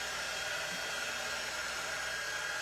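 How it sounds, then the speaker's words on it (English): Hair dryer blowing on a craft piece from a winter starter kit, a steady, even roar of rushing air held throughout at close range. "I'm going to grab my dryer and just dry this a tad"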